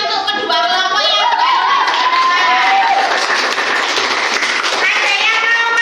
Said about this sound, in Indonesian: Ayo kita beri tepuk tangan untuk kedua kelompok yang